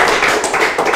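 A short burst of dense hand clapping from a group during a podcast, loud and close, with no talk over it.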